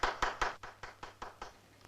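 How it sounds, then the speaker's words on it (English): A small scattered applause, eight or so distinct hand claps in a slightly uneven rhythm, moderately close and fading toward the end, with no talk. "Thanks for the applause."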